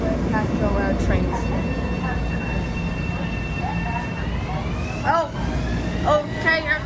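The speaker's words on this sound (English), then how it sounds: "Oh, okay, here comes the train." An Amtrak train rolling past a station platform at Scarborough, a dense continuous rumble of wheels and rail noise close by, with some higher squeals and clatter over the top.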